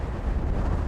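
Strong wind gusting across the open Patagonia desert at around 50 kilometres an hour, a dense low rumbling buffet with steady roar and no voices.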